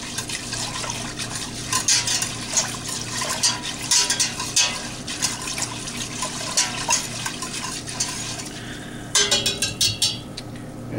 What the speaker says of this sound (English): We'll pour that in, and then we'll take our little whisk and we'll whisk it a little bit, get it all stirred in there